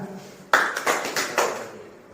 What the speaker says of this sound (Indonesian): berarti Bapak Ibu tepuk tangan 2 kali